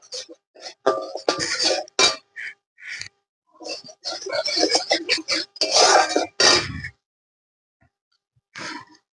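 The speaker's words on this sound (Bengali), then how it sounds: "বেসনটা দিয়ে একটু নাড়াচাড়া করে নেব" A spoon scrapes and clinks against a pan on a low flame while gram flour (besan) is stirred for semolina barfi, in irregular close bursts of metallic scraping with short pauses between them.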